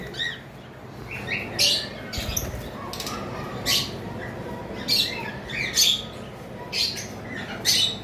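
A pair of budgerigars at a bird seller's stall chirp and squawk in short, bright bursts, close by and repeated every second or so over a soft background hum.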